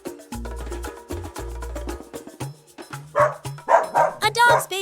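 A dog barks in a lively children's animal-vocabulary piece, sharp repeated barks and yips mixed with bouncy background music, fairly loud and close, with barking bursts growing denser toward the end.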